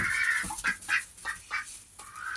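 Ducks quacking nearby in a quick series of loud, nasal calls, about five or six in a row, with no talking.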